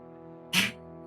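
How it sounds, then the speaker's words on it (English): A single short sneeze from a character in a zombie survival video game pops out over a quiet sustained tonal background, brief and moderately close. "Laser just sneezed."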